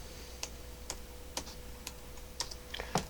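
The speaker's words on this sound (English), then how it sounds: "So let me type any header" A computer keyboard being typed on to enter a header, with sparse, separate keystroke clicks spaced roughly half a second apart over a faint steady hum, quiet and alone with no talking.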